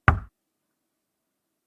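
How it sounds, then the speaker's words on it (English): One low, dull knock on a wooden door, close and unhurried, fading quickly into complete silence. "A low, dull thud on the wood. Not hard, not rushed, just a single, conversational knock."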